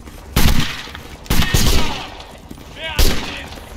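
Musket volleys in a Napoleonic Wars battle game: three loud, sharp bursts of massed gunfire spaced a second or so apart, with rumbling battlefield noise between them.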